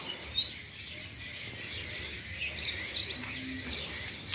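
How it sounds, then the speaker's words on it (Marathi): Sparrows chirp in a tree in scattered, quick bursts, faint and a little distant, against a quiet background. "अजून चिमण्या काही गेलेल्या नाही आहे अजून झाडावरच किलबिलाट करत आहे"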